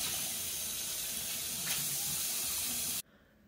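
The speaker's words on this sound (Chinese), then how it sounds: "现在这个水量就大多" A freshly cleaned kitchen faucet runs in a full, steady rushing stream, then is abruptly shut off, leaving only faint room noise.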